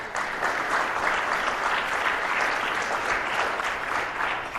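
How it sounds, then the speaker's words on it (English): A conference audience at TiECon Detroit 2017 claps in a steady, dense round of applause that holds evenly throughout without letting up. "let's give a big round of applause to the core team"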